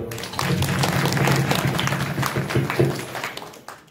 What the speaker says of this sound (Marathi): तसेच जे टाळकरी तरुण मंडळी उभा आहेत ना त्याच्यासाठी एकदा सर्वांनी टाळ्या वाजवा